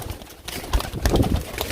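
Pigeons in a loft coo softly and repeatedly at close range, with low throaty pulses overlapping a rustling, busy background of birds moving about.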